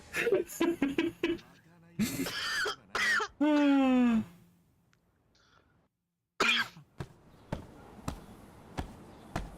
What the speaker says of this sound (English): I think I know why you're coughing